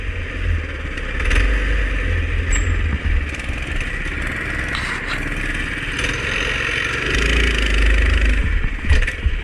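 A Massimo MudStar MB200S mini bike engine drones loud and close during a wheelie on a summer forest trail, holding a steady buzzing note with a rise in revs near the end.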